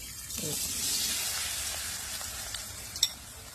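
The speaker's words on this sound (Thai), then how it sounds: "ทำกุ้งทอดก็เลยจะมาทำกุ้งทอด" Shrimp fry in a pan with a steady, close hiss and crackle of oil, broken by a few faint pops and a sharper tick near the end; no one speaks.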